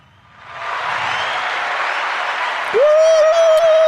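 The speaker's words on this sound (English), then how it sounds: "Give us a round of applause." A crowd breaks into a round of applause that swells and holds steady, close and loud, with a sharp whistle cutting through near the end.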